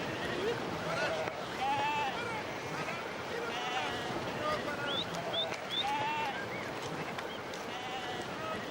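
Domestic sheep bleating on a high mountain pasture, several animals calling in short wavering cries scattered across the clip, some near and some farther off, over a constant rushing background.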